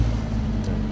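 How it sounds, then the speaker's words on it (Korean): A jeep engine idling or running with a dull, thudding low rumble, steady and close throughout the brief moment, with no talk. "엔진음이 아주 둔탁합니다. 그죠?"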